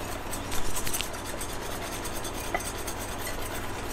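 Sugar and flour mixture being whisked in a warm pot for cooked flour ermine frosting, a continuous quick scraping and clinking of the whisk against metal, close and steady.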